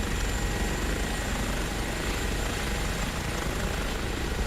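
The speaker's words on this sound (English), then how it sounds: "I can hear another helicopter." A helicopter flying in Microsoft Flight Simulator, a constant loud rotor and engine roar with a steady broadband wash, continuous and close, with no talking.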